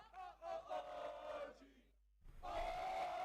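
An esports arena crowd at a Valorant Challengers South Asia playoff match, Orangutan versus Aster Army, chants in unison, rising in loud rhythmic surges that break off briefly and then swell again.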